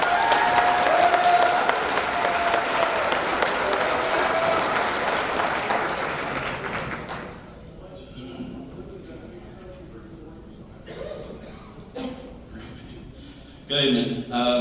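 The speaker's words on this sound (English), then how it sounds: "How about a nice round of applause for Luke Riddle?" Banquet audience at a 2019 Crate Racin' USA awards dinner applauds the Modified Sportsman Division national champion, with loud sustained clapping for about seven seconds that then fades into quieter room chatter and a lone voice.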